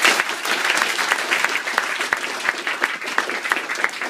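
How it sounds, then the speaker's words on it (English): Wedding guests applaud during a wedding speech, a steady wash of many hands clapping with a few louder individual claps standing out, continuous and fairly close for the whole span. "Give her a round of applause."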